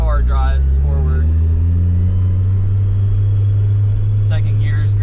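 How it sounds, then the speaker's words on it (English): A Nissan 240SX with a CA18DET engine and a grinding clutch drives off, its low engine drone steady and loud from inside the car, with brief voices at the start and end. "it's going. My car drives forward."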